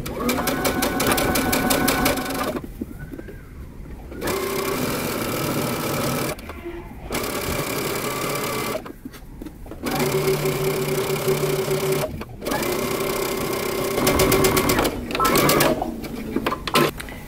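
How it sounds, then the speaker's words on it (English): A sewing machine stitches a tee shirt hem from the side seam with a 7/8-inch seam allowance, running in several loud, close, rapid whirring bursts separated by short pauses. "I'm going to go ahead and stitch starting at the side seam and using a 7/8 of an inch seam allowance"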